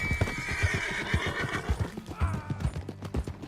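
A horse in the Red Dead Redemption video game whinnies loudly over quick, rhythmic clip-clop hoofbeats, close and clear with no talk.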